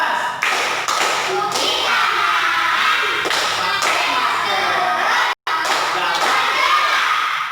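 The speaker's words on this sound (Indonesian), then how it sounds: "mari kita tepuk COVID-19 ya." A teacher leading a rhythmic "tepuk COVID-19" clapping chant during a lesson: sharp, patterned hand claps come in bursts between stretches of chanted speech and children's voices, with one brief dropout near the end.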